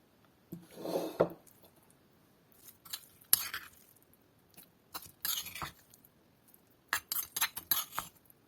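A spoon scrapes and clinks against a mortar while scooping out pounded young jackfruit for a Northern Thai dish, in quiet, scattered bursts of close scraping with pauses between them.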